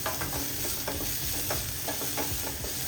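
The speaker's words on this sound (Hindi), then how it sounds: "थोड़ा सा जो इनका गोल्डन कलर आ जाएगा तब तक हमने इन्हें फ्राई करना है।" Leftover food frying in hot oil in a home kitchen, a steady close sizzle with light stirring scrapes throughout, no voices.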